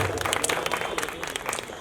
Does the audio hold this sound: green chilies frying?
no